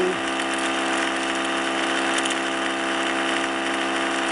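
A small Orbo / Ben Thomas style magnet motor with one coil and four magnets spins near 4,000 RPM, giving a constant high-pitched whine rich in overtones, steady and fairly loud throughout after a brief drop in pitch at the start.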